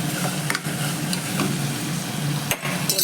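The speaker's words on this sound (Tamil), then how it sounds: "கறி மசாலா தூள் அதையும் போட்டு எண்ணெயில் கொஞ்சம் வதக்கி விட்டுக்கலாம்" Masala powders frying in oil in a pan for a cauliflower kurma, a busy sizzle broken by a few scraping stirs of a spatula against the metal, close and fairly loud.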